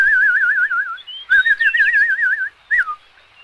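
A person whistles a wavering, trilling tune imitating birdsong, with two warbling phrases separated by a brief pause and a short rising chirp at the end, clear and close with no talk.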